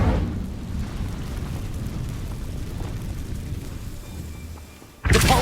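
A fire spell is cast in the Hogwarts Legacy video game: a loud, sustained low roaring rumble lasting several seconds, easing off slightly before a sharp bright burst at the end.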